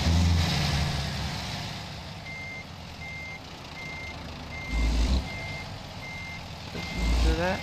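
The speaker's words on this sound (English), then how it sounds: "Listen to that sound. The revving of the engine." A truck in a driving video game idles and revs in low bursts while evenly spaced reversing beeps repeat over the engine rumble.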